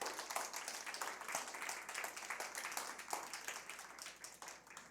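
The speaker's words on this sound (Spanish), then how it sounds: "Dale un aplauso fuerte al Señor" Church congregation gives a strong round of applause for the Lord, many hands clapping in a dense, steady crackle, fairly quiet and distant, fading slightly at the end.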